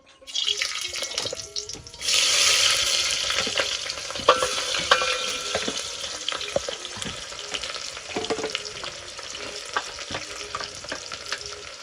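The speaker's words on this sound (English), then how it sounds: "Straight away, guys, I go ahead and fry the beans, as you can see." Beans frying in a pan in a rural African village kitchen, a loud hiss of sizzling that surges as they hit the hot oil, with scraping stirs and clinks throughout, close up and without talk.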